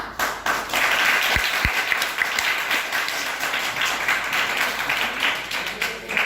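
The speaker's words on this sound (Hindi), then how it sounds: "आप सभी की जोरदार ताली" Loud, sustained applause from an audience at a seminar on an online business, dense clapping continuing for several seconds at steady volume.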